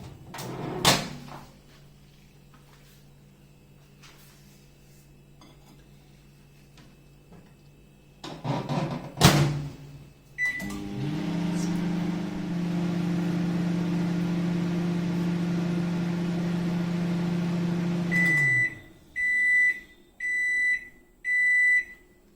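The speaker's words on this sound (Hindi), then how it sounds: "अब हम इसे 1 मिनट के लिए माइक्रोवेव ऑन कर देंगे।" A microwave oven used to heat seasoned pizza vegetables clunks shut, then hums steadily for a stretch before stopping, followed by a series of sharp, evenly spaced beeps.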